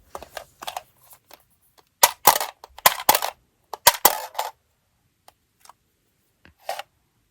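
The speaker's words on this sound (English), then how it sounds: "we will go ahead and roll the dice twice" Dice rolled twice, producing two bursts of sharp clattering rattles on a hard surface, each cluster of clicks lasting about a second, followed by a few scattered faint taps.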